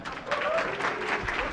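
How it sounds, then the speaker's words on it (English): A convocation audience claps continuously in a large hall, a dense, even wash of applause that holds steady throughout. "And now keep right on clapping for our president, Dr. Sherry Olson."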